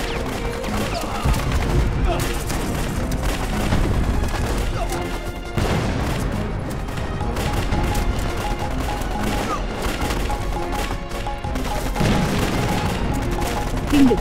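Gunfire in a dubbed war-film battle scene, dense bursts of shots and booms layered over one another at high volume, with shouted voices mixed in.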